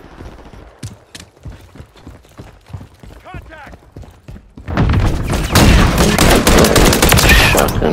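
Shotgun fire erupts during a Call of Duty MW3 team deathmatch, rapid loud gunfire and blasts filling the second half after scattered clicks and shouted voices.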